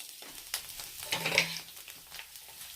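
Collard greens frying in a small amount of olive oil, a quiet crackling sizzle with a few sharper pops and spoon scrapes close by, without speech.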